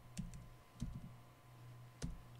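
Someone types on a computer keyboard in a few scattered bursts of quiet clicks, separated by pauses, over a faint steady hum.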